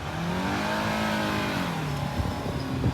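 An off-road vehicle revving hard to climb out of soft beach sand, a loud sustained engine drone rising and falling in pitch close by.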